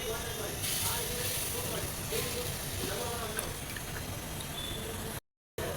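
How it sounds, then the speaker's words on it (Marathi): Water sizzles on a hot tawa beneath a bhakri flatbread, giving a steady, fairly quiet hiss that runs throughout before a brief cut to silence near the end. "असं आपण भाकरी टाकून त्याच्यावरती पाणी टाकणार आहोत आणि व्यवस्थित भाजून घ्यायचं एका साईडला."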